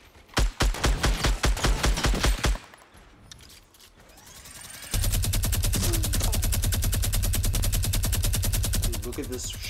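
A minigun in Fortnite Battle Royale fires two bursts of rapid, loud, buzzing automatic fire, a short one first, then after a brief lull a long sustained stream of shots.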